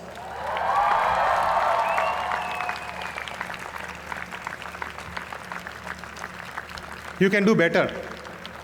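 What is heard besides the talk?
students cheering and applauding for parents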